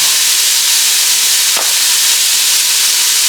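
Onions sauteing in a pot with Italian sausage for sausage and pepper soup, a steady close hiss and sizzle running unbroken, with one brief soft clink midway.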